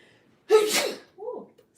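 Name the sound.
person sneezing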